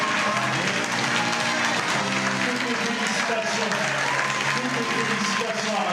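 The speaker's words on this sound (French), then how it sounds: "la première dame d'Atour, c'est Célia, qu'on applaudit également très fort." Loud, sustained applause from an audience greeting the announcement of the Damoiselle 2020 at a local ceremony, a dense wash of clapping throughout with a murmur of crowd voices mixed in.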